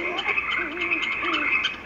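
Frogs croak in a dense, continuous chorus of rasping, pulsing calls from a television scene, with an even background texture throughout.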